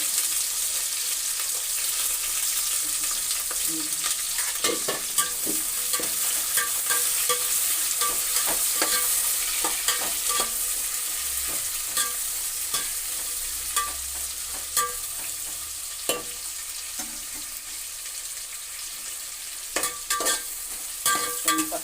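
Onion, green chilli and curry leaves fry in hot oil in a pan while being stirred, giving a steady, loud sizzle with scattered clinks and scrapes of the spatula throughout.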